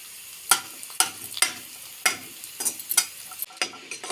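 Beetroot poriyal with grated coconut is stir-fried in a pan, giving a regular series of sharp scraping stirs over a low background hiss.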